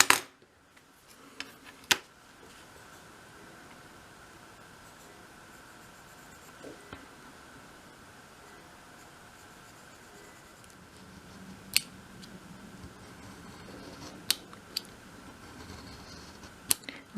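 Scissors snip around drawn lines on dolls house parts in short, crisp, intermittent cuts, close and fairly quiet over a steady background hum, with long pauses between clusters of snips.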